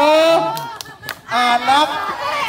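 Children chant the "tepuk anak soleh" clapping rhyme at a Maulid gathering. A few sharp claps cut through their sing-song voices in uneven bursts.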